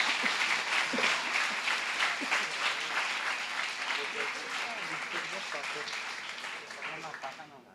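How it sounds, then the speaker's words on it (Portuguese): A church audience applauds for Jesus during a Portuguese-language service, a dense, steady burst of many hands clapping that holds strong for several seconds before thinning slightly toward the end. "Você pode aplaudir a Jesus?"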